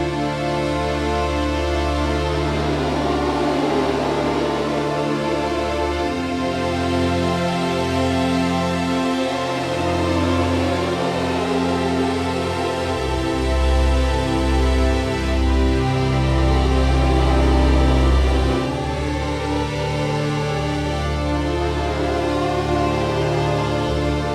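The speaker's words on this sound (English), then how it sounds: "So you've got the high strings all rising up and down, falling on the fifth in unison together" String ensemble playing a Nexus technique, high strings rising and falling together and landing on the fifth in unison over a sustained low foundation, full and continuous without pause.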